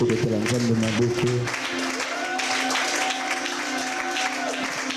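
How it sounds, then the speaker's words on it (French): A church congregation applauds and acclaims the Lord, a loud, steady wash of clapping and cheering with a sung or spoken voice carrying over it at the start. "Est-ce que tu peux acclamer le Seigneur?"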